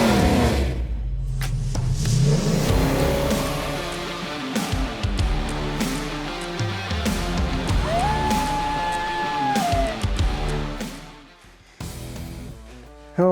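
A 1972 Chevelle classic car accelerates hard, its engine rumbling and revving loudly up close with rising and falling pitch, then easing off near the end.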